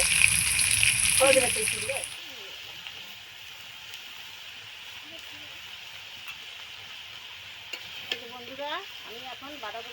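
Cabbage being fried in a small wok, a loud burst of sizzling in the first two seconds settling to a soft, steady hiss with occasional stirring scrapes.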